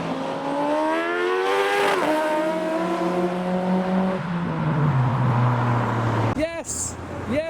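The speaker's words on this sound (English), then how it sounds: "Hayabusa engine, yes." A car at a show powered by a Hayabusa motorcycle engine revs hard, sweeping up and then settling, with excited voices over the loud, close engine note and a short sharp blip at the end.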